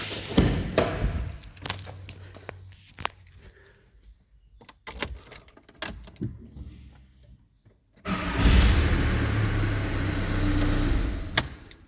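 A Volkswagen car, with a history of not starting after sitting, is heard as keys rattle, a door thumps and switches click, before the engine catches and settles into a steady, close idle.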